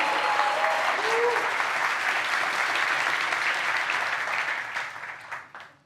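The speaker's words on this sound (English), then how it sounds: "So let's give them a big round of applause." A conference audience at LangChain's Interrupt event breaks into loud, dense applause that holds steady for several seconds, then thins out and fades toward the end.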